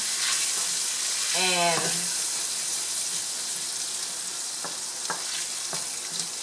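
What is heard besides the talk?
pork and bacon sizzling while sauteing in pan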